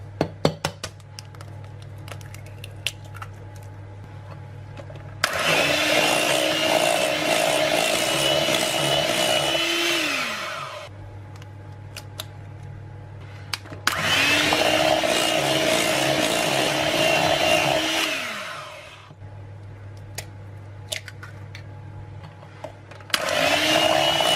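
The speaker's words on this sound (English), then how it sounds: "And now we'll whisk in the eggs one at a time." An electric mixer whisks eggs into cheesecake batter in three long, loud whirring runs of several seconds each, separated by quieter pauses with a low steady hum.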